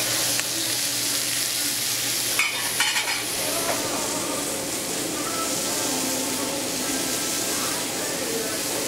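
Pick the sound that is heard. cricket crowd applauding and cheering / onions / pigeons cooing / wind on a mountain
onions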